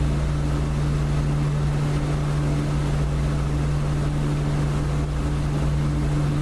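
An aircraft engine in the DCS flight simulator roars steadily and loudly under a constant low hum, sounding like a sustained high-power drone during a takeoff run.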